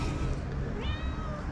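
A friendly neighborhood cat meows once, close and clear, a short rising call over steady background noise.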